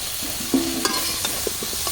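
Fried cauliflower being stirred in a pan, with a spatula scraping and clinking against the metal over a soft, steady sizzle of oil, close and moderately loud, no one talking.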